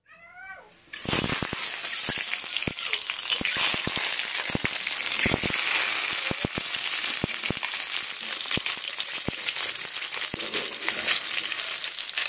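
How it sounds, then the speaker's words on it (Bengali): Duck eggs hit hot mustard oil in a wok and fry with a loud, continuous sizzle broken by sharp crackles and pops. A cat meows briefly just before the frying starts. "এবার আমি ডিমগুলো ভেজে নেব। কড়াইয়ে সরিষার তেল দিয়ে দিয়েছি, গরম হয়ে গেছে।"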